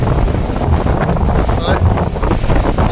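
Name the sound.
strong wind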